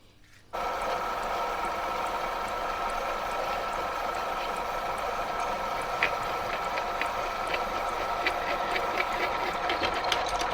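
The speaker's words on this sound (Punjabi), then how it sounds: "ਇਹਦੇ ਸੈਂਟਰ 'ਚ ਪਹਿਲਾਂ ਇੱਕ ਛੇਕ ਮਾਰੋ" A lathe running steadily while drilling a centre hole in a metal workpiece, with a continuous whirring machine drone and faint repeated metallic ticks, alone without talk.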